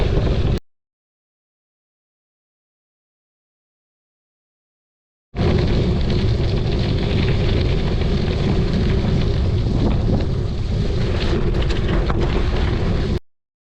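Wind buffets the microphone while cycling on the Ashton-Tetonia rail trail, an old railroad grade, in a brief gust, a long silent gap, then about eight seconds of steady loud rushing.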